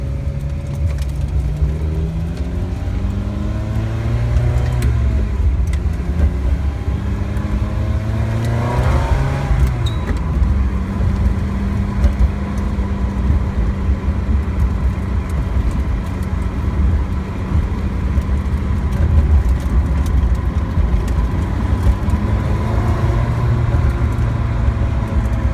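A 1997 Ferrari F355 Spider engine drones and revs up and down while driving, the exhaust note rising and falling steadily and loudly from inside the car.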